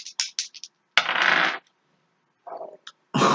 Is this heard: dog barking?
no